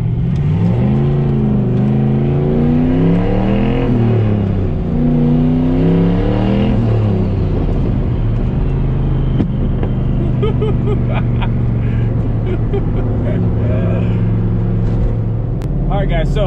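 A 650 hp turbocharged GTO on Kenda Kaiser KR20A semi-slick tires, heard from inside while driving: a loud engine drone whose pitch climbs and falls through the revs, then settles into a steadier cruising hum.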